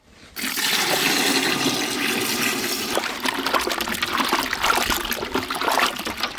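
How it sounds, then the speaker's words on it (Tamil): Water pours steadily into a pot for cooking a fish curry, a continuous gushing splash that starts abruptly and runs on with slight variation, close and fairly loud, with no talk. "தண்ணியை ஊற்றிக்கிறோம்."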